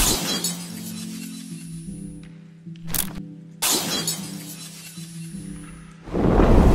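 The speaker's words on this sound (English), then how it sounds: "Want this glass broken transition in a light motion?" Glass shatters in sharp crashing bursts used as a transition effect, several loud breaks separated by ringing tonal tails and brief silences, ending in a final heavy smash.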